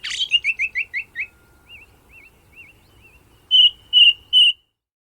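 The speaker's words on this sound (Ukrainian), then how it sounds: "Послухаємо, як співає дріст." A thrush sings a quick run of bright, repeated phrases, then slurred whistles and three loud ringing notes, clear and close with no voices.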